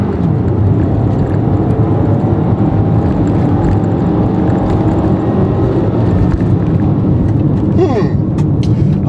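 A 2013 Toyota RAV4 accelerates hard from a standstill to 60 mph, its engine giving a steady, loud, unbroken roar from inside the cabin with road noise underneath.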